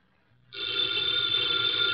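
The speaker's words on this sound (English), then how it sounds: "the ringing of that phone bell brings you mystery, adventure" An old telephone bell starts ringing after a half-second of near silence, then rings on steadily and clearly, with no voices over it.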